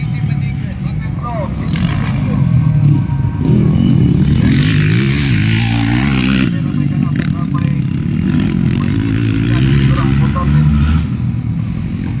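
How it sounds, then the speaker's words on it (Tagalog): Motorcycles race around a track in a Pro Open first heat, engines revving and roaring loudly up and down as they pass close, with an announcer talking over the noise. "Humihina ang motor ni Mitch Rivera."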